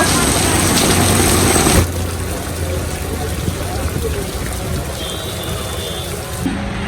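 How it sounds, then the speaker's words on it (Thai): Heavy rain falls steadily on a rainy market day, a dense, even hiss throughout that is loudest in the first two seconds, with a voice talking over it. "ฝนตกอีกแล้ว"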